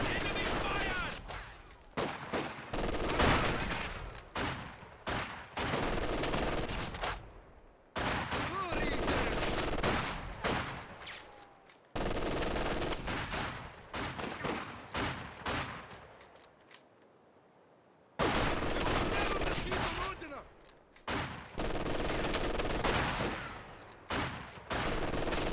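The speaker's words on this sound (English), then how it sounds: "Conscripts return fire." Exchanges of rifle fire between infantry squads in the strategy video game Company of Heroes 2, heard as dense volleys of cracking shots that come in bursts several seconds long, broken by brief silences and softer gaps.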